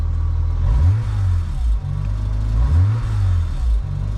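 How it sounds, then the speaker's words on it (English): BMW N54 engine in a DCT-equipped car, heard from inside, with a rough low drone rising and falling through repeated revs and a loud, close metallic rattle on top, no talk. "It really sounds like wastegate rattle."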